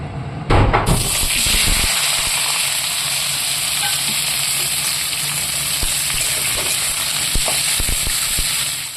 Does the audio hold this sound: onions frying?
yes